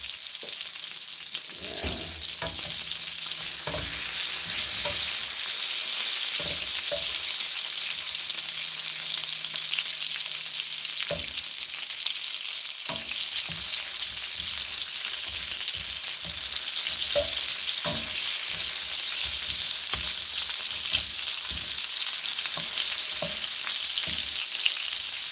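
Longganisa sausages fry and sizzle in a pan, a continuous close hiss of bubbling fat broken by frequent sharp spits and pops, with no voices over it.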